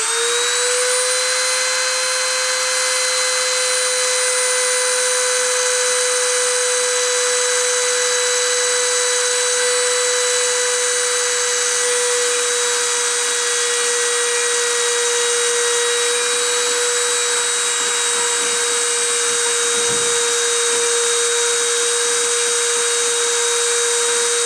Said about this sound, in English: I'm going to turn the spindle on and go for the deposition.